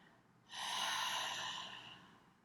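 A single long exhale after a deep breath held in a guided relaxation exercise, a soft airy rush that swells in at once, holds steady and slowly fades, close and alone with no talk.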